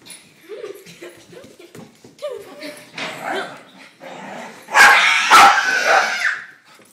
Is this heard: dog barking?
yes